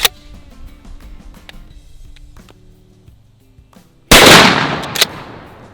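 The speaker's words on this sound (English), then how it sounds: "it'll be the last one that we're gonna fire here with buckshot" A shotgun loaded with buckshot fires one loud, close blast that rings out and decays, with faint handling clicks and small knocks before it.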